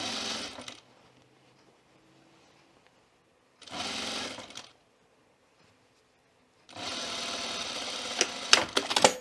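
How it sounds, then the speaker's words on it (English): Sewing machine stitching a seam on a button-up shirt, running in three close bursts, short, then another short run, then a longer steady stretch ending with a few sharp clicks. "Sew on the seam line. Stack. Line it up and sew."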